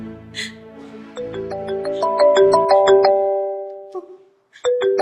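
A melodic phone ringtone plays loudly nearby, its bright tones rising and ringing on before a short pause, then starting again.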